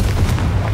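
Confringo spell explosion in Hogwarts Legacy, a short, dense, booming burst with heavy low rumble that lasts under a second, loud and alone.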